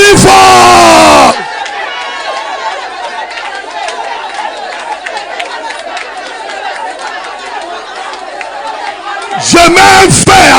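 A church congregation shouts loudly together in prayer, a dense, sustained roar of many voices yelling and crying out at once, bracketed by a single voice speaking at the start and end.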